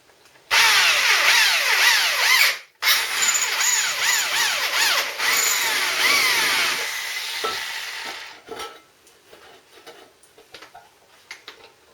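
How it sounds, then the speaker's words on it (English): A power drill bores mount point holes through a metal motorcycle spray guard in a garage, starting with a loud steady whine. The pitch wavers and sweeps as the bit bites into the metal, then the drill cuts out, leaving faint clicks and handling noise. "I've got to drill that there, there, and there for the 3 mount points"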